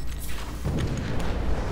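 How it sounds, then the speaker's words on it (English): A deep, rumbling boom from a nuclear ejection explosion in Titanfall, loud and close, swelling into a sustained low roar with crackling debris across the short moment. "So that big explosion you just saw there is a perk that you can get called nuclear ejection."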